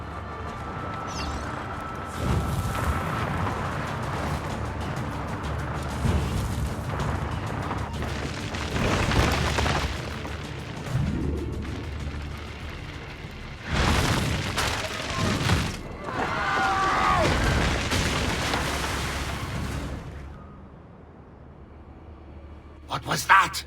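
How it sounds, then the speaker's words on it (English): Firecracker blasts in Assassin's Creed II crack and boom in bursts, loud sharp pops clustered through the scene alongside game speech and background activity. "Probably just kids with firecrackers."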